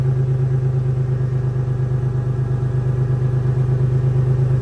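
A Toyota 4Runner with a 5VZ-FE engine fitted with Doug Thorley headers runs at a steady idle, giving a loud, close, even rumble with no talking.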